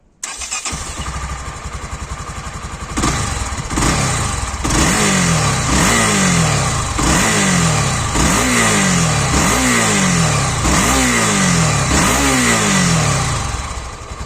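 A Honda Tornado XR 300 single-cylinder motorcycle starts, then is revved repeatedly in quick, evenly spaced bursts that climb and fall back, loud and close for over ten seconds without talk.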